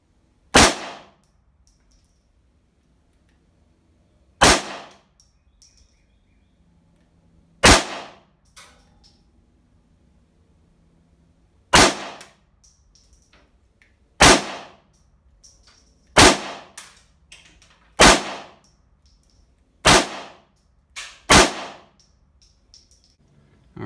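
Pistol shots fired at a range through a handgun fitted with an ADE Advanced Optics RD3-030 Apollo Pro solar red dot sight: about eleven sharp, loud cracks, sparse at first and then quicker, with short decays and quiet gaps between.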